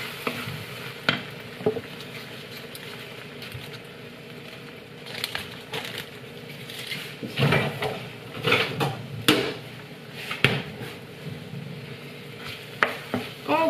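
Butter melting and sizzling in a pan for tomato parmesan risotto: a soft, steady sizzle runs throughout, with occasional spoon scrapes and clinks against the pan, close but fairly quiet.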